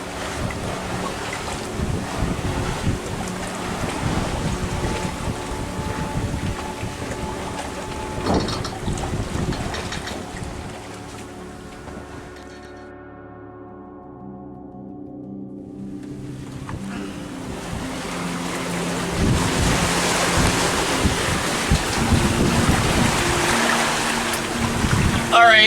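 Sailboat under way at sea between Puerto Rico and the Dominican Republic: steady roar of wind buffeting the microphone over rushing waves and hull wash, easing briefly midway, then building back louder and fuller.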